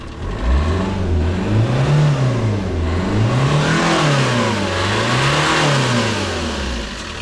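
A diesel Mercedes tractor engine with a turbo revs up and down repeatedly in smooth waves, rising and falling pitch with a turbo whoosh growing louder in the second half, close and steady with no talk.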